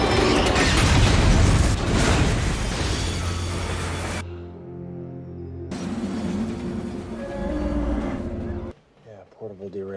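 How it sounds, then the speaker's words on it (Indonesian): A cargo train, number 777, slams at full speed into the tail of another train in the film Unstoppable: a loud, dense crash and rumble for about four seconds, then heavy metallic grinding and booming that cut off abruptly near the end. "kereta kargo 777 dari arah depan dengan kecepatan penuh langsung menabrak ekor keretanya"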